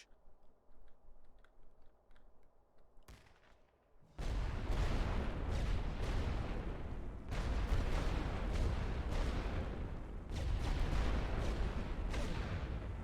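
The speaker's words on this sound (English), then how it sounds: "Start the barrage." Artillery barrage in The Great War: Western Front erupts after a brief quiet stretch, a loud dense roll of overlapping shell blasts and booms that keeps pounding without pause.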